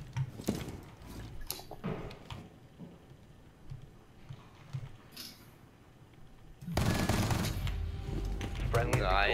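Rapid gunfire from Rainbow Six Siege, with an operator shooting through a window in bursts of shots, loud and close at the end and softer earlier, with voices talking over it.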